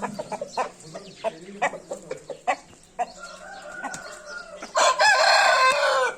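A farmyard rooster lets out a loud, close crow near the end, after a run of short clucks and pecking sounds from nearby fowl.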